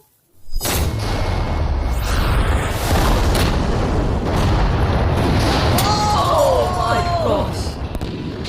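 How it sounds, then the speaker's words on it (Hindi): A sudden loud blast hits and then rolls into a sustained, heavy rumble that lasts several seconds, with voices faintly heard underneath. "तेज धमाका था।"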